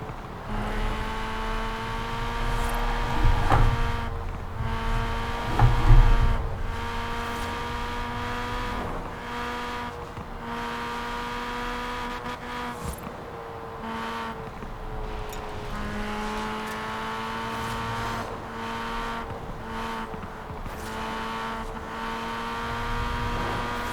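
Mini Cooper JCW Countryman ALL4 engine in Forza Horizon 4, droning steadily with shifting revs and tire scrub as the car slides sideways through corners, loud and continuous with no talking.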